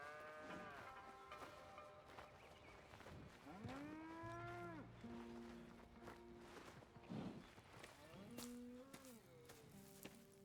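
Cattle in the Red Dead Redemption 2 video game low repeatedly, several drawn-out moos rising and falling over soft footsteps and ambient farm noise, with no one talking.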